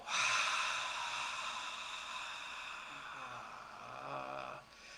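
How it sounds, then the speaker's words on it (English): A deep breath drawn in, held, then slowly let out during a guided breathing exercise, a long steady airy rush close to the mic that softens toward the end. "Take a deep breath in. Hold at the top and let it go."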